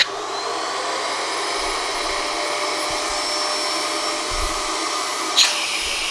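A Miele U1 upright vacuum cleaner runs steadily a mile above sea level. The motor gives off a loud, even whine and airy rush, with faint low bumps and a brief tonal whistle near the end.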